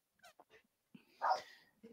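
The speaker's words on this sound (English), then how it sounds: "Speaking of dogs, these two are mine that are barking right now." Two dogs, including a small beagle, bark and whimper indoors: a few faint short yips followed by one louder bark, fairly distant and quiet.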